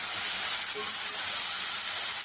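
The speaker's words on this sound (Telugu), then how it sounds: "సన్నగా కట్ చేసుకున్న ఉల్లిగడ్డ పచ్చిమిర్చి వేసుకున్నాం మనకి మంచిగా ఫ్రై చేస్తున్నాం" Sliced onion and green chilies fry in a pan for a Telangana-style onion egg curry, giving a steady, loud, close sizzle with no voices over it.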